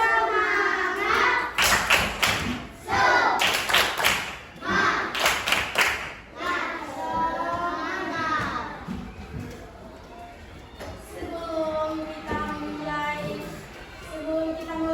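A classroom chant with rhythmic group clapping during a micro-teaching lesson: bursts of sharp claps in repeated patterns alongside children's voices chanting and singing in unison, then the clapping fades as the sung chant continues.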